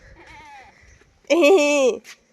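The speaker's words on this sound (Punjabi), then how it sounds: "ਇਧਰ ਆਪਣਾ ਬੱਕਰਾ ਸਿੰਘ" A male goat lets out one loud, drawn-out bleat close by in a village, preceded by a softer, wavering animal call and faint background noise.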